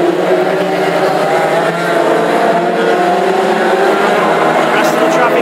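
Classic hot rod race cars at Hednesford circuit sweep through a turn, a loud sustained engine drone with layered motors overlapping, while a commentator talks over the noise.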